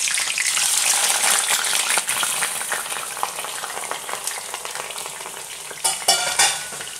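Onions fry in hot oil for ndole, a loud steady sizzle with stirring scrapes that eases slightly and then flares up with a few louder bursts near the end, no voices.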